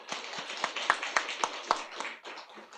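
A church congregation claps to give glory, with scattered, uneven claps heard at moderate distance and fairly faint, no voices over them.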